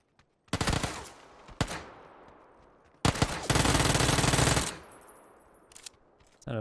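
9mm gunfire in PUBG on console: a short burst and a single crack, then a long sustained volley of rapid automatic shots, loud and close, with a few more shots trailing off, no talking.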